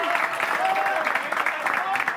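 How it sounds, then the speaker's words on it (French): Studio audience applause at a French television game show, a steady dense patter of many hands with murmuring voices and a faint tone running through it, moderately loud throughout. "Elle mérite encore plus l'applaudissement."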